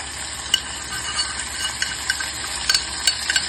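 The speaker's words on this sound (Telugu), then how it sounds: "దించేసి అందులో కలిపేసేసుకోవాలండి" A spoon stirring jowar rava drumstick khichdi in a pan, with scattered light scrapes and clinks over a steady background sizzle. Close and moderately loud, with no speech.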